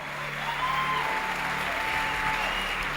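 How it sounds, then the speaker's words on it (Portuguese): Congregation applause at a church conference session, a broad steady wash of clapping from a large crowd with faint sustained musical tones beneath, even and continuous throughout. "aplauda Ele o mais alto que você puder"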